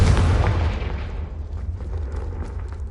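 Heavy blast from the Confringo spell in Hogwarts Legacy, a loud booming burst that rolls into a fading rumble with crackling debris over the next few seconds.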